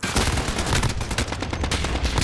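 AN-94 rifle gunfire in the Call of Duty Modern Warfare video game, loud rapid bursts of close automatic shots firing almost continuously throughout.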